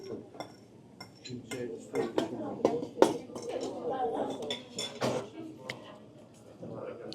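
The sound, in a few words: spoon clinking in a dish of cheese corn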